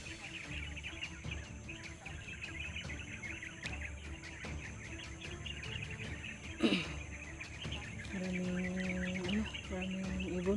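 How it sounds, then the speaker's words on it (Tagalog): Many birds chirp and twitter continuously outdoors at moderate distance, a dense layered chorus with a low tonal hum joining near the end. "maraming ibon."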